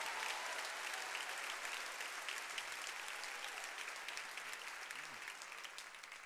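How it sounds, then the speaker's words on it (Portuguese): A congregation claps loudly during an evening church sermon in Portuguese, a sustained, dense wash of hands with scattered cheers rising slightly near the end. "Aplauda bem forte, dê brados de vitória a ele nessa noite."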